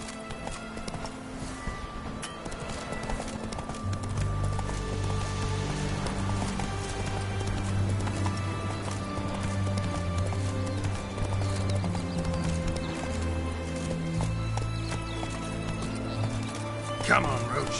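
Hoofbeats of a horse galloping in The Witcher 3: Wild Hunt, a steady, loud clip-clop rhythm running for most of the stretch under game music, with a rider's voice calling out over it.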